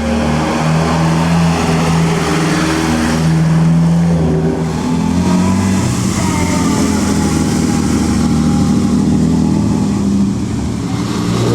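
A late-model Ferrari racing car at the Mille Miglia road race, its engine droning loudly and steadily close by, the pitch rising and falling as it runs past over a constant rumble.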